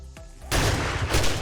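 A sudden burst of loud gunfire in the game 7 Days to Die erupts after a brief quieter moment, with a rapid sharp blast followed by a sustained noisy rumble.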